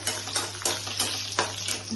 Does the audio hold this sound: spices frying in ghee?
yes